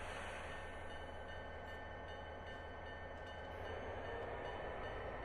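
A heavy freight train in the Cajon Pass, from a railroad video game, rumbles steadily as it begins to roll, with a constant low mechanical drone and faint clanks.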